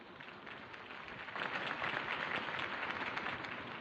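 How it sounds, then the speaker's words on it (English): Crowd applause in a video game after a political campaign speech, a dense wash of clapping that swells partway through and continues steadily, moderately distant. "If only Mr. Wayne, my campaign's largest backer, could have heard that applause"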